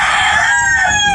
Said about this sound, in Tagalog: at yung ingay ng mga manok namin,